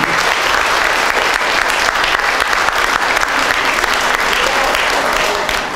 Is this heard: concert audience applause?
yes